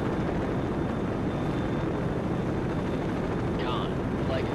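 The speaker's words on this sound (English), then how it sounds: "Con, Flyco, aircraft landing" Jet aircraft landing on the USS Nimitz aircraft carrier in a naval combat video game, a steady loud broadband roar of engine and wind with a brief faint whine near the end.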